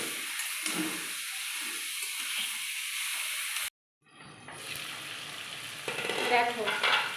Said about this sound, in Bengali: মটনটা দিয়ে আর একটু খানিকক্ষণ কষিয়ে নেব।